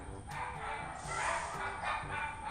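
Dogs barking at night at 2:30 a.m., territorial yips and bow-wows aimed at an intruding dog, repeated sharp bursts at moderate distance over steady broadband background noise.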